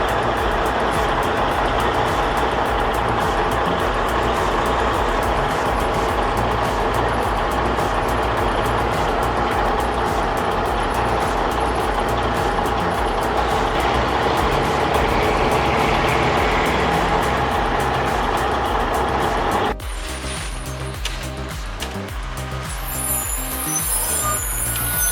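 Timber logging truck driving with a loud, steady engine roar throughout, near and continuous, shifting to a quieter rumble with a hiss near the end and no talking.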